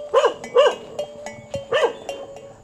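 A dog barks three sharp times, moderately close, in an outdoor rural setting with no one speaking.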